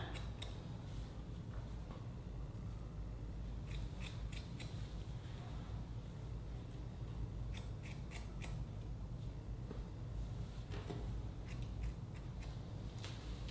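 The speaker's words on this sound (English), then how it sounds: "Just pull your fingers straight out and then you'll see exactly where you need to cut." Scissors cutting hair at home, faint snipping in small clustered bursts of quick clicks over a low steady hum.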